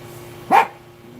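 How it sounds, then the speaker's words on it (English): A single short dog bark outdoors, fairly close and clear, standing out against a quiet background with a faint steady hum. "And my dog's out here with me."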